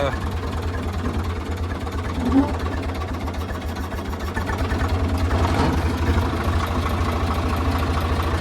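A tractor engine runs steadily throughout with a low, rhythmic idling throb, loud and close, with a brief louder bump midway.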